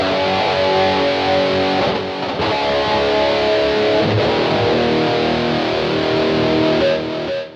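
Heavily distorted electric guitar chords through a BOSS eBand JS-10 on its Extreme Lead amp model with high gain and a tube screamer overdrive, EQ switched off, ring out loud and sustained in several strummed phrases with brief gaps, alone without talk.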